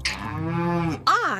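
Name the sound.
cow mooing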